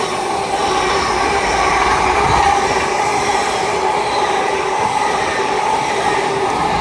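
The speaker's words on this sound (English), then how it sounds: "Pass through now very slowly is a LNER Azuma, I believe, from Aberdeen to London King's Cross" An LNER Azuma, unit 800-103 from Edinburgh to London King's Cross, rolls slowly through Doncaster station on the East Coast Main Line with a loud, steady rumble of wheels and traction that holds throughout.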